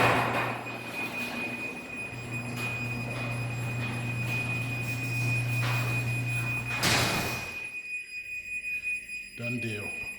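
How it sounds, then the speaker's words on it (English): MyQ wireless opener lowering a garage door: a continuous high alert tone over a low motor rumble, then a thud near the end of travel before the sound drops off. "Since the garage door is going down, it's basically giving off an alert that the garage door is fixing to go down."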